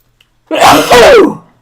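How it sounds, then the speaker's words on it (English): A single loud, close sneeze bursts out suddenly after a short silence, then trails off. "Big sneeze."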